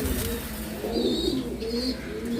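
A caged pair of black Telmark pigeons at a pigeon sale coos softly and steadily, with low, rolling calls over a constant background hum and a few faint higher chirps.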